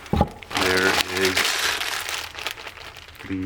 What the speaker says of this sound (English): These definitely have some plastic bags with them